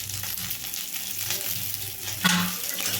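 Garlic and curry leaves fry in hot oil, giving a continuous close sizzle with occasional stirring scrapes and a brief louder clatter, and no one speaks.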